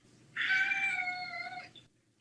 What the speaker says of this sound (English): Stop messing with a cat.